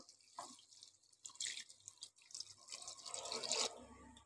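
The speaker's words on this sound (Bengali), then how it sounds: "এবার আরও জল দিয়ে দেবো।" Water splashes and trickles into a cooking pan of curry in short bursts, building to a fuller pour near the end, quiet and close with no talking.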